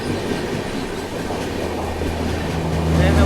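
The Karnataka Sampark Kranti Express rolls past up close, a dense, loud rumble of wheels and carriages with faint clickety-clack and squealing, swelling slightly at the end.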